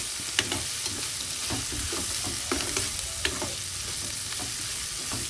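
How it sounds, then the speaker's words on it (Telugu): Turmeric and spices frying in a pan for a village-style country chicken dish, a steady sizzle with scraping stir strokes every second or so, close and fairly loud with no talking. "ఇది మాత్రం పచ్చివాసన పోయేందుకు వేయించుకొని"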